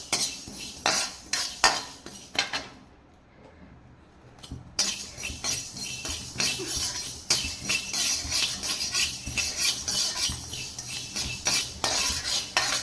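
Mustard seeds and fenugreek with a little asafoetida are dry-roasted in a pan for garlic pickle, stirred with a metal spoon. Close, repeated scraping and clinking rhythms play, with a short quiet pause early on.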